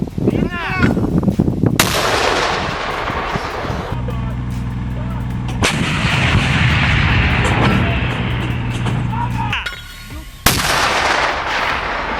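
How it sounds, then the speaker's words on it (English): A mortar round fired in war, with several heavy, booming blasts and long rumbling echoes, close and very loud, beside a running vehicle engine and shouted voices. "Одну міну вогонь!"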